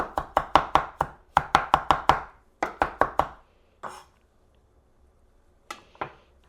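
A knife mincing fresh parsley on a cutting board: quick runs of sharp, close chops in steady rhythm, a pause, then a few more isolated strikes.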